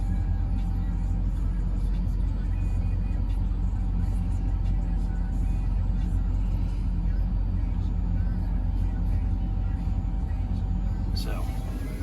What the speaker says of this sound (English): And this is how you operate your dump bed.